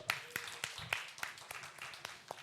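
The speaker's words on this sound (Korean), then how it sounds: "박수 한번 주세요" A small group at a Korean church middle-school Sunday service claps, a sparse scattering of distinct hand claps at an uneven pace, fairly quiet and close.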